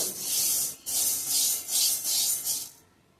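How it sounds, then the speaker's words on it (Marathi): Green mung beans being dry roasted in a pan without oil and stirred, giving a steady hissing, scraping rattle in several sweeping strokes up close, with no talking. "मुगाला खमंग भाजायचे एकदम छान मध्ये मध्ये हलवत राहायचं बरं का"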